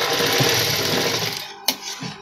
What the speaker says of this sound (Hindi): अब स्ट्रेट सिलाई चलाऊंगी